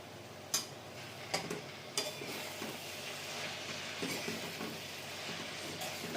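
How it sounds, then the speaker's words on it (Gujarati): Spring onion sabji being stirred in a pot: a soft, steady sizzle with a few sharp utensil clicks and scrapes near the start, then quieter continuous stirring. "હવે હું એને હલાવી દઉં છું."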